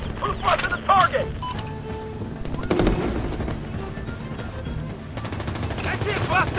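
Machine gun fire rattles in the Medal of Honor 2010 video game, as loud repeated bursts and scattered gunshots that are near and busy, with a voice shouting briefly in the clip.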